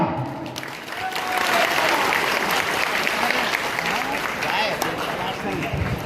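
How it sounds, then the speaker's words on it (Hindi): Loud applause from a large crowd at a drivers' union convention, dense clapping filling the hall for about six seconds, with voices calling out and talking underneath. "जोरदार तालियां दिया।"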